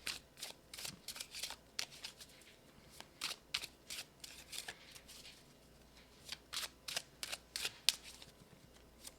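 Tarot cards are shuffled close up in repeated short bursts of crisp riffling and slapping, each burst separated by brief pauses, quiet and with no talk over it.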